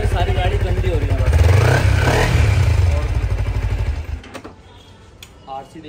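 A KTM RC motorcycle engine runs close by with a rapid, steady idle that swells in a brief rev before cutting out, followed by quieter ambient noise.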